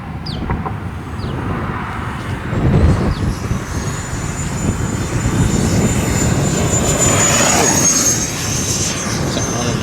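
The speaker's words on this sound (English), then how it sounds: "We've got John and Jerry lined up with their F4s down on the end of the runway to kick this off with this formation flight" RC F4 model jets powered by electric ducted fans taking off in formation at an airfield runway, a loud sustained whine rising and holding with a high-pitched tone climbing through the clip.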